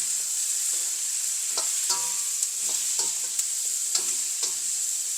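A spoon repeatedly scrapes and clacks through a spicy vegetable gravy with turmeric as it sizzles in a pan, a constant hiss of frying beneath irregular stirring knocks, close up, with no voices.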